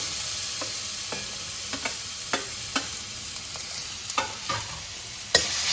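Chili thecha paste sizzles in hot oil in a pan with a soft, steady frying hiss, broken by occasional sharp pops and crackles, close and fairly quiet with no voices.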